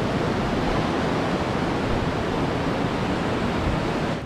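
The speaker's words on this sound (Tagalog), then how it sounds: "sobrang lakas ng agos saka mataas yung tubig" Loud, constant broadband rush of a strong river current swollen after rain, heard up close and alone with no talking.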